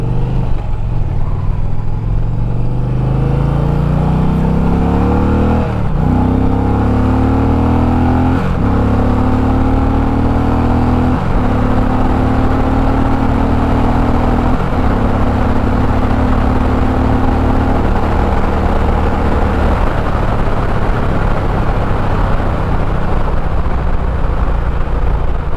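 A 2021 Indian Challenger motorcycle accelerates hard on a test ride. Its loud engine climbs through several gears in rising revving sweeps, each broken by a brief shift dip, then settles into a steady high-speed drone with wind roar.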